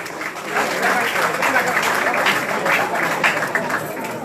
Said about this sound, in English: Can we clap for Igbo Union, please?